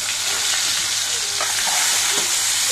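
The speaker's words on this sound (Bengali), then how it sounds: "দেখুন আমি পরিমাণ মতো পেঁয়াজের বেরেস্তা ভেজে নিব" Onions deep-frying into birista for duck kacchi biryani make a loud, continuous, close hiss and bubbling sizzle that holds steady throughout, with no talking.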